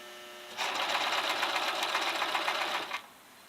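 A sewing machine runs in one steady burst of about two and a half seconds, stitching a two-tone fabric infinity scarf, its rapid needle chatter clear and close before it stops, leaving quiet room tone.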